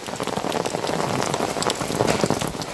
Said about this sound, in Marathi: पाऊस बघा फुल मारणारा पाऊस पडते.